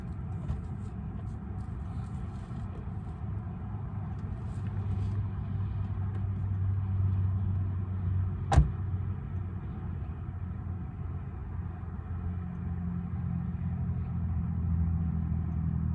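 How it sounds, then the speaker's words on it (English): A stuck truck's engine runs continuously as someone tries to get it free, a steady low rumble at moderate distance with a deeper surge in the middle and one sharp click, and no talking. "I might just see if I can get this truck unstuck"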